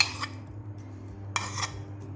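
Whisked mixture being tipped into a bowl, two short bursts of scraping and clinking of a utensil against the bowl, close and clear over a quiet hum.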